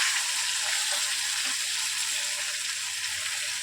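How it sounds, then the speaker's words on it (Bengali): Tengra fish curry fries in a pan after water is added, a loud, continuous, even sizzle and hiss with faint stirring movements and no clear individual strikes. "একটু নাড়াচাড়া দিয়ে নিই।"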